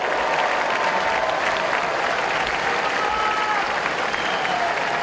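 Sustained applause from the members of a state House audience at a Democratic Party event, a dense, even wash of many hands clapping at steady loudness for the whole stretch, with faint crowd murmur underneath.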